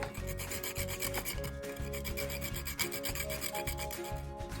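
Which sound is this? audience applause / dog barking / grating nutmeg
grating nutmeg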